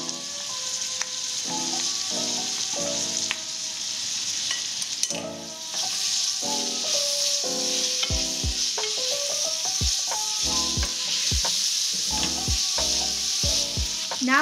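Ginger-garlic paste and turmeric sizzle and fry steadily in a pan for a pork and bitter gourd dish, with a spatula repeatedly knocking and scraping in an irregular rhythm, close and loud without speech.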